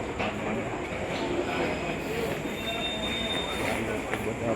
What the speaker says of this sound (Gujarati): ટ્રેન ઉપડી ગઈ છે આપણી